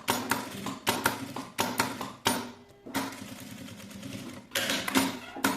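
Sewing machine stitching a pocket onto a bag, running in several bursts of rapid mechanical clatter separated by brief pauses, close and moderately loud.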